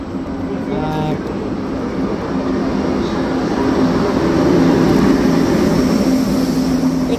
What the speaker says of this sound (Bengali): এই যে ট্রেন আসতেছে, এটা হলো ইটালির বুলেট ট্রেন।